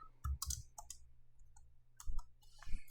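Quick bursts of computer keyboard keystrokes, a few close, crisp clicks in short clusters separated by brief pauses of near silence.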